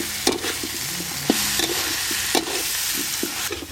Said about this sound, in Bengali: মশলার সাথে বেগুনগুলো বেশ ভালো করে মিশিয়ে নিলাম।